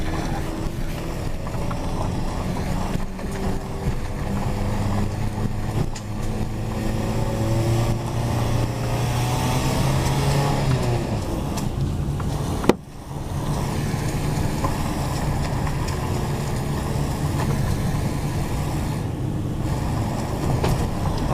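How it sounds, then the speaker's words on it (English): A car engine labours up a steep, rough mountain track, droning loudly and steadily throughout with a brief dip partway through; no talking. "Car's struggling a little bit with the basics here."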